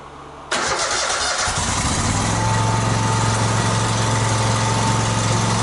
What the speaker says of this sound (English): let's go ahead and start the engine, let it run